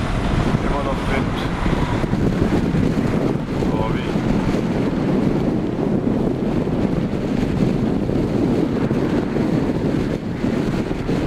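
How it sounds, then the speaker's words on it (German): Strong wind on a bridge by the Miami harbour gives loud, constant buffeting roar and rumble against the microphone, with faint voices beneath. "Immer noch Wind."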